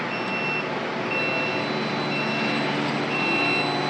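A ZAKF industrial air compressor runs after scheduled maintenance, giving a steady, loud mechanical hum with a faint high whine that continues without a break.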